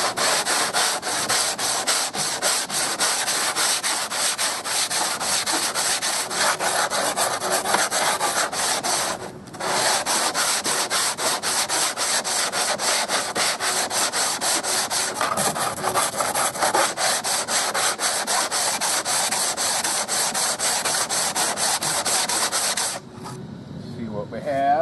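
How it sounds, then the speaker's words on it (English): Hand sanding of Bondo filler down to the foam on a canoe hull makes a continuous, close, steady scratchy rasp, with one short pause midway and a brief stop near the end. "So I'm going to sand it until I start hitting foam."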